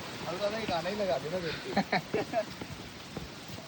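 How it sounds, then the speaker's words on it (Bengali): A strong rushing mountain stream on the trail to Tungnath in Uttarakhand gives a steady, close roar of water, with a person talking over it. "প্রচণ্ড জল স্রোত, এর মধ্যে পা ফেলা খুবই কঠিন"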